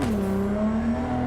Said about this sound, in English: They made the cars sound better.